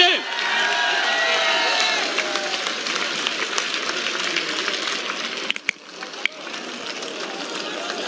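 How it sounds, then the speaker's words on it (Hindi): A large crowd at an outdoor political rally in Jind, India, claps loudly in a dense, sustained wave, with voices carrying over the applause as it fades and scattered bursts follow. "जोरदार तालियों के साथ स्वागत कीजिए।"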